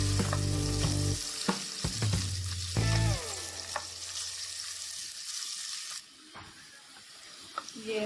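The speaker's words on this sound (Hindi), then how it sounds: "उसके अंदर ये वाले प्याज शामिल कर देंगे। हाई फ्लेम पर ब्राउन होने देंगे।" Onions frying over a high flame for baingan aloo sizzle steadily in a pan, broken up by the scrapes and knocks of stirring. A few clanks come early, and the sizzle stays close and continuous throughout.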